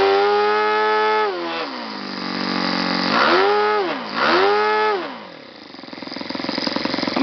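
A YS FZ70-S four-stroke model engine turning a propeller runs loud and close, a steady buzzing drone that swoops down and back up twice as the throttle moves, then settles into a rougher, lower idle.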